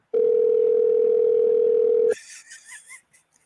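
An outgoing phone call goes unanswered, sounding as one long, loud, steady ringback tone that lasts about two seconds, followed by brief voices talking.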